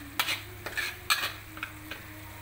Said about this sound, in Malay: Kacau-kacau sehingga bahan-bahan yang kita blender tadi betul-betul masak.